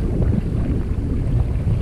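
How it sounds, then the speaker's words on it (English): Strong wind gusts roar steadily across the microphone while sailing a small boat down Gasparilla Sound in the Everglades Challenge, a constant low buffeting rush with no voices. "Occasionally you get a stronger gust,"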